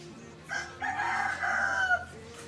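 A rooster crows once at close range in a rural yard, a loud drawn-out call lasting about a second and a half, with faint background noise.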